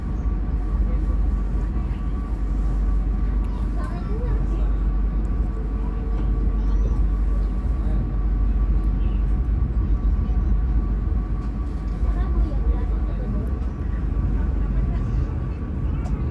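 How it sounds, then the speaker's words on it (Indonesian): A passenger train rumbles past steadily and loudly, a continuous low roar of wheels and carriages with no break from start to finish. "ini ada rangkaian kereta api Banyu Biru ya, tujuan Solo Balapan"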